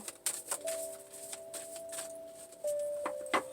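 Tarot cards are shuffled by hand in a series of irregular soft snaps and riffles, close and fairly quiet, over faint sustained background music.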